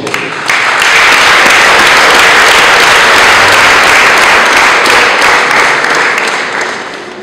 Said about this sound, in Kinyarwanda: abakristo tubishimire tubaha amashyi menshi n'impundu